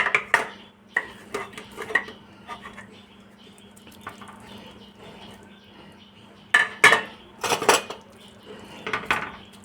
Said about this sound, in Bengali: এবার আমি ভেজে রাখা যে ঝুড়িটা অল্প অল্প করে দিয়ে দেবো